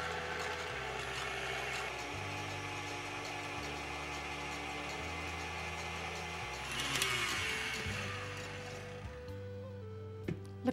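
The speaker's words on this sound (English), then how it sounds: "Now I'm gonna beat the egg whites until" Electric beater whipping egg whites in a clean bowl, a steady mechanical whirr that shifts speed in stepped changes, with a brief clatter near the end and no speech.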